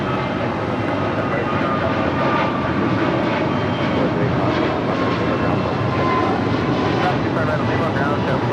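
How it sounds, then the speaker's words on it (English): An American Airlines Airbus A321neo jet takes off from LAX bound for Reagan National, a loud, sustained engine roar filling the whole stretch, with voices talking over it. "That was American Airlines flight 2725 heading to Reagan National on that A321neo."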